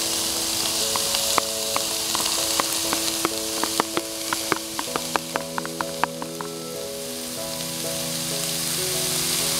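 Cooked rice sizzling and frying in a pan with grilled pork and chamuang leaves at a campsite, with a steady crackling hiss and a run of sharp spatula clicks against the pan in the middle.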